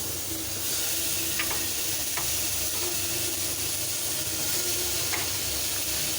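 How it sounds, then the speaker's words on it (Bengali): Vegetables and onions fry with a constant hissing sizzle, punctuated by a few light stirring scrapes, close up and without talking. "পেঁয়াজটা একটু ভাজা ভাজা হলে কেটে রাখা সবজিগুলো দিয়ে দেব।"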